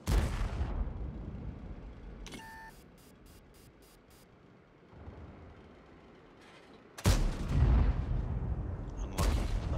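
A tank cannon in World of Tanks fires a single sharp, booming shot at the start. Heavy blasts and rumbling come back later, with a short series of faint beeps between them.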